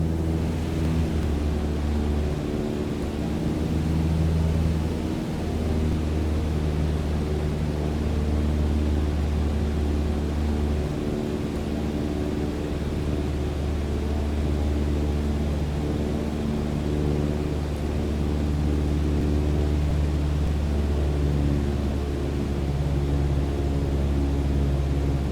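Steady propeller plane engine drone in Microsoft Flight Simulator, a continuous loud hum with strong low harmonic tones during a training descent, unchanging throughout with no talk.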